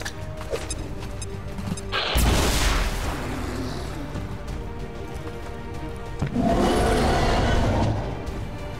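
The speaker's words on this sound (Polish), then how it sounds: "rzućmy granatem" Two heavy grenade blasts from the tactical strategy game XCOM 2, each a sudden loud crash with a rumbling tail, the first at about two seconds and the second near six seconds, over a low game background.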